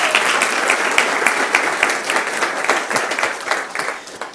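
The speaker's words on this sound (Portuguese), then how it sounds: "Aplauda eles agora." A congregation at a church gathering breaks into loud, close applause, many hands clapping in a dense, sustained burst that thins a little toward the end.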